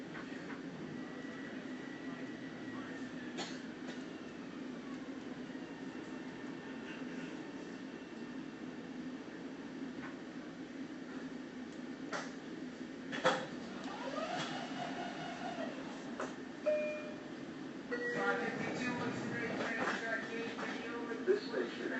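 A Long Island Rail Road train rumbles steadily at Jamaica station with faint squeals and clanks, while platform announcements and voices come through near the end.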